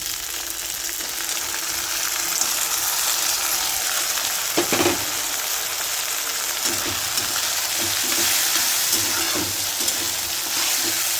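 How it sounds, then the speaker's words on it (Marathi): Onion, capsicum and green peas fry for curd rice, a continuous oily sizzle with a few brief stirring scrapes and clinks, close and steady, with no talking. "आता यामध्ये सिमला मिरची आणि हे ग्रीन पीस टाकून घ्यायचे आहे हिरवे वटाणे"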